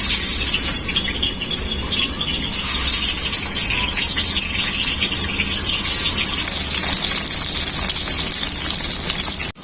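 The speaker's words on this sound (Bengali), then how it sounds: "তেলটা খুব ভালোভাবে গরম হয়ে গেছে এখন মাছগুলো আমি ভেজে নেব" Fish frying in very hot mustard oil in a wok, a loud, steady, crackling sizzle that stays dense and even throughout without any speech.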